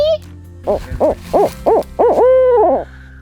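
An owl gives a rhythmic series of five or six hoots ending in a longer drawn-out, descending call, loud and close over a low background hum.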